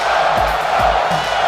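Dense roar of a virtual wrestling arena crowd in WWE 2K20, with a rhythmic chant pulsing about every half second, loud and steady through the short span.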